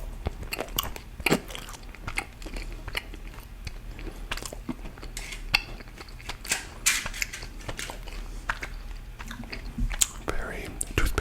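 Gum with a strong toothpaste-like mint flavour is chewed close up in a quiet, intimate setting, giving moist rhythmic smacks and crunchy clicks over a soft background rustle.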